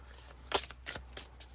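Matte-finish Romantic Lenormand cards are shuffled smoothly, making several quick, crisp riffling bursts close by with brief pauses between them.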